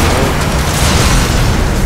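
Explosions in the flying racing game Skydrift, a dense, continuous rumbling barrage of blasts with steady loudness and no clear gaps between them.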